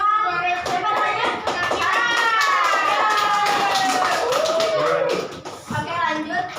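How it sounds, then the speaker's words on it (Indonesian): A classroom of children clapping their hands together, bright scattered claps mixed with kids' voices and chatter, fairly close and loud, fading toward the end. "Tepuk tangan."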